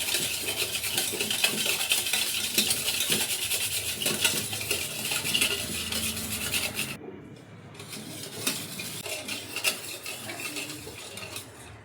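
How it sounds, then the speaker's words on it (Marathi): A spoon scrapes and rubs steadily around a bowl as dhokla batter mixture is stirred, continuous and close, with a brief pause partway through and no voices. "आता हे सगळं मिश्रण आपण व्यवस्थित हलवून घ्यायचंय."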